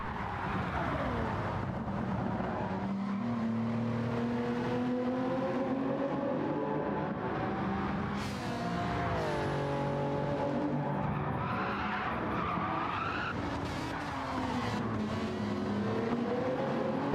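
Race cars battle for third and fourth place in Gran Turismo 7 sim racing, with whining engines rising and falling through the gears, tires squealing and skidding in the turns, and cars passing close, loud and continuous throughout.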